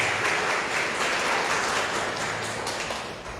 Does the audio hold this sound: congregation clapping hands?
yes